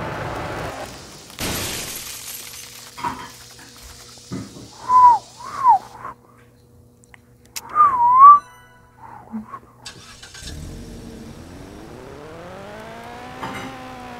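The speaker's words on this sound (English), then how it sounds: "My friend said that I whistled good" A person whistling a few short melodic phrases, clear and fairly close, broken up by sharp crashes and game-like noises, with a rising, car-like drone toward the end.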